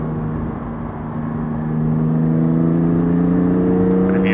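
Porsche GT4 sports car heard from the cabin while driving, a steady engine drone with a firm low hum that swells a little louder midway and holds.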